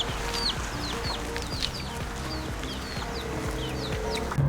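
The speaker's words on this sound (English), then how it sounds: "Lots of chickens here." Chickens cluck and chirp at a lush valley lookout on Kauai's North Shore, with several birds calling in quick, overlapping bursts over a steady low background hum.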